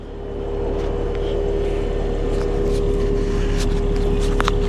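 Track car engine revving from behind the car, a loud steady rumble that swells at the start and holds at a constant idle-like drone, close by, with faint background noises.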